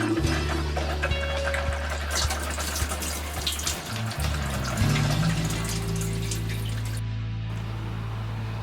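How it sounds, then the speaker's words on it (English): Water runs from an open hot tap while a Whale pump and Expanse water heater system is primed, a steady splashing gush with sputtering bursts from trapped air, close by and uninterrupted by speech. "Leave the hot tap open until all air clears from the water heater and the water starts to run smoothly."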